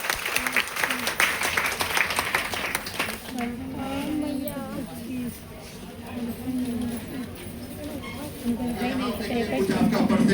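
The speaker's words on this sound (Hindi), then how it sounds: "चलिए एक बार जोरदार ताली बजाइए।" Loud applause from an audience at a seminar on percentage levels and PV earnings, with a crowd of many hands clapping steadily throughout and voices murmuring and a speaker talking under the clapping.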